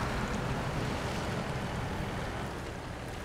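Low-range rumble of a heavy truck churning through deep water in SnowRunner, with steady broadband sloshing and engine drone throughout, loud and continuous with no breaks.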